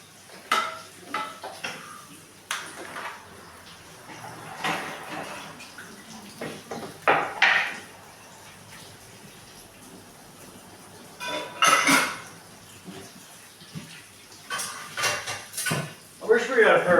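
Metal pans and utensils clatter and scrape intermittently while stir fry is cooked, with sharp knocks and clinks scattered among running water, close by and moderately loud, and people talk at times.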